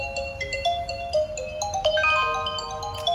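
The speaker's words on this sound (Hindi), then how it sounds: "मेरा मोबाइल फोन बज बज गया" A mobile phone rings loudly and close by with a bright, repeating electronic melody of stepped tones that keeps playing for the full few seconds.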